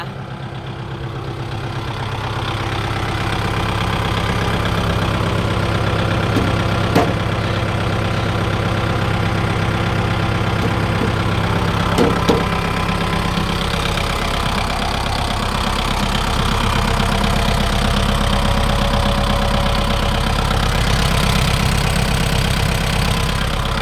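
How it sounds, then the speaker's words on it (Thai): A Kubota L4508DI tractor's four-cylinder diesel engine idles steadily and loudly, a continuous low chugging rumble with a couple of faint clicks, running unchanged throughout. "เครื่องยนต์สี่สูบค่ะ"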